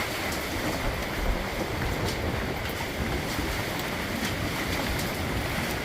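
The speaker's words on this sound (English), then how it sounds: "this is on the lighter side of the wind gust coming through" Cyclone wind gust in Maine: a continuous, loud, broadband roar that holds steady without letting up, with no voices.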